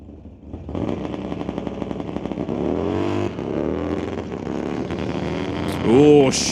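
A Torque Twisters Racing Graceland Garage drag-racing motorcycle, ridden by Dieter Gerst, launches down an NHRA Summit ET Series strip with a loud sustained engine roar that wavers as the rear tire shakes and the revs climb.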